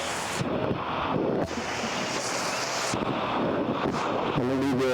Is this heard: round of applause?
no